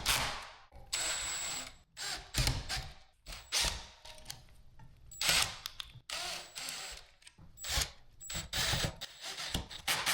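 Ceiling fan mounting hardware being tightened down against a washer, giving repeated short bursts of ratcheting, clicking mechanical noise separated by brief pauses, close and moderately loud with no talking.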